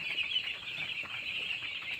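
A dense, continuous chorus of many five-day-old poultry chicks peeping together on a poultry farm, steady and fairly soft, with no talking.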